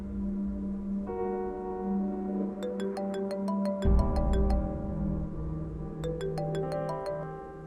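A phone rings in a melodic ringtone pattern of repeated chimes over a dramatic background music score in an Urdu TV drama scene, ringing through several cycles before it is answered.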